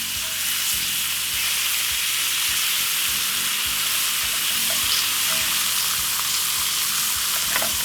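Pork steaks sizzle steadily on a grill for a Jamaican-style recipe, with a continuous bright hissing crackle and a low rumble beneath it. No one speaks over the frying.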